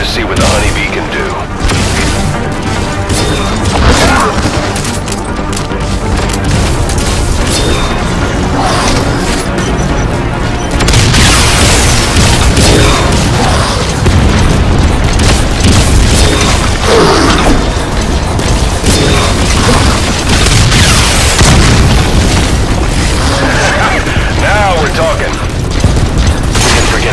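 Honeybee missile launcher explosions in Metal Gear Solid V: The Phantom Pain, loud booms and crashes among mechanical clatter and continuous game noise, with speech over the top.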